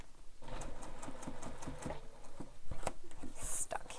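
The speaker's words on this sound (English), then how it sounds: "this zipper foot will help me get close to my interfacing without stitching over the interfacing" A sewing machine fitted with a zipper foot stitches a handheld bag near its interfacing in quick, rhythmic bursts of needle clatter with brief pauses, while a faint voice murmurs underneath.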